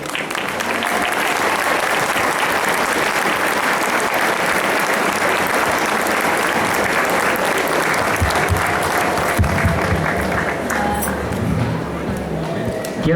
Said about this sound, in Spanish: le voy a pedir a mis compañeros que le demos un fuerte aplauso a nuestros padres y madres